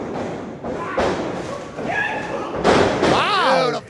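A wrestler's knee strike lands in the ring at a Limitless Wrestling studio taping. A heavy thud rises from the mat amid a continuous voice talking over the action.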